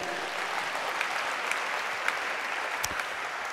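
Congregation applause at a university chaplaincy church service, a steady wash of clapping from many hands, fairly even and sustained throughout.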